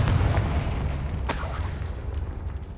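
A Confringo blasting spell in Hogwarts Legacy sets off an explosion: a low rumble swells into a sharp, bright crack about midway, followed by a fading, crackling boom.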